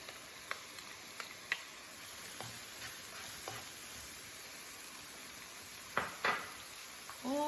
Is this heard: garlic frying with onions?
yes